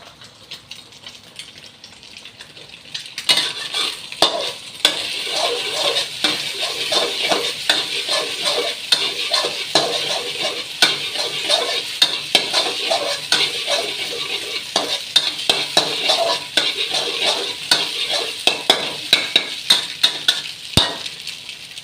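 Eggs stir-fried in a pan for a Thai Isan dish with fermented shrimp crackle in a quiet sizzle, then give way to loud, rapid, repeated scraping and clatter of a spatula stirring against the pan for most of the stretch.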